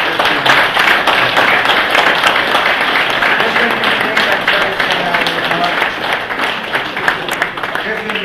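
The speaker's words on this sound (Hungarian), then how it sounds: "Azért még egy tapsot a Zseusz László tanár úrnak is adjuk" A crowd applauds at a school farewell event, with dense, steady clapping lasting about eight seconds and voices mixed in underneath.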